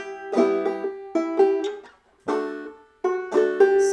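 Close, solo clawhammer banjo picks out a phrase of Greensleeves: clusters of bright plucked notes and strummed brushes in a lilting rhythm, with brief gaps between groups and no talking.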